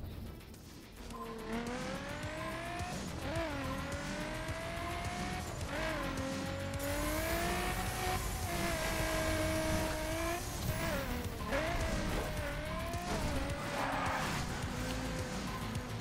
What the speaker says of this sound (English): Oh, it's a car.